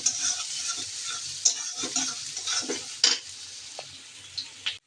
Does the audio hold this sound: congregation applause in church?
no